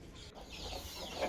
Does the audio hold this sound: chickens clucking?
yes